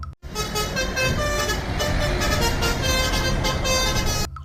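A toy bus telolet horn plays a sustained, loud multi-tone melody for about four seconds, starting abruptly after a brief click and cutting off sharply at the end, with no other sounds.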